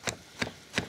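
A knife chops a tomato slice into cubes on a cutting board, three crisp, evenly spaced taps close up, quiet and alone.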